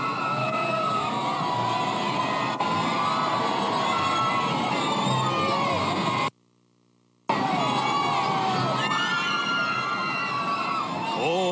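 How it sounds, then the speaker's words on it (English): Loud, dense Toronto Santa Claus Parade crowd with shrill whistles, high screams and sustained cheering, filling the street continuously apart from one brief dropout of about a second. "Oh, the whistles and the screams and the cheers"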